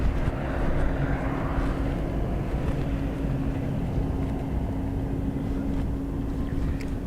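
An airliner roars at Dublin Airport during a storm with high winds, a continuous jet-engine rumble with a steady hum, mixed with gusting wind noise and holding at a fairly even level throughout.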